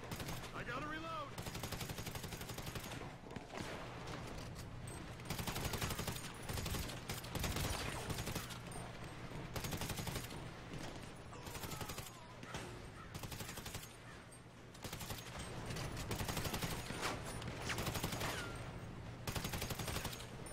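Gunfire in GTA Online rattles almost nonstop in dense automatic bursts and volleys over a steady game soundscape, loud and close, with a voice shouting occasionally.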